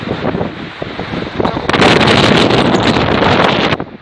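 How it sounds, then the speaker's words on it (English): Strong gusting wind buffets the microphone on an exposed fell top at Whinlatter, near a rebuilt summit shelter. It roars loud and continuous, surging even stronger halfway through, with no talk over it. "Extremely windy,"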